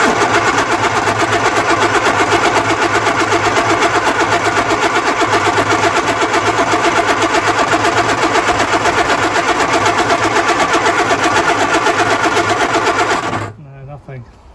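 The starter of a Lotus Elan +2 grinds on in a loud, even, rhythmic churn for about thirteen seconds without the engine catching, then cuts off abruptly into near silence.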